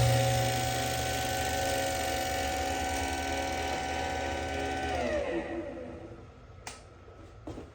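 A Jet 2244 oscillating drum sander motor runs with a steady loud hum and whine, then spins down in pitch and fades toward silence, a few faint knocks at the end.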